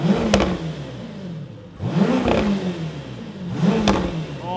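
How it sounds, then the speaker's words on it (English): An Audi Nuvolari halo supercar, a 2028 model, revs hard three times in close succession, each run climbing then falling back with sharp pops and crackles on the overrun, loud and near, with no voices over it. "I love the pops and snarls, but then you get up to the peak and it doesn't sound as hollow to me as the Temerario."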